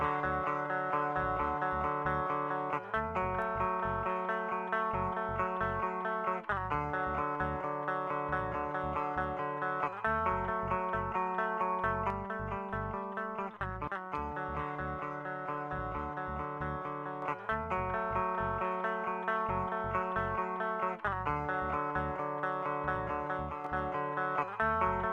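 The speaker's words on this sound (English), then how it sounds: "So then we've got the guitars." Guitars processed through the Acustica Audio Jade plugin play a loud, distorted, layered riff that repeats in steady cycles with chorus-like effects throughout.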